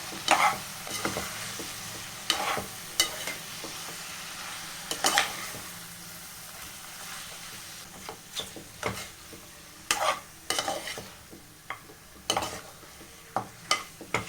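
Gongura mutton with coconut-poppy seed paste is stirred in a pan. A spoon scrapes and taps in irregular bursts over a soft, continuous sizzle, close up and with no talk.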